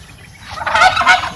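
Two loud, rapid gobbling bursts from a turkey, close by, each a quick rattling warble following a brief quieter lead-in.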